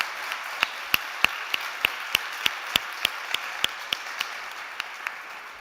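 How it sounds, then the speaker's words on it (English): Scattered applause on a startup summit stage, a sparse run of individual sharp claps at a steady pace, fairly faint and with no talking over it. "Let's give her a big applause."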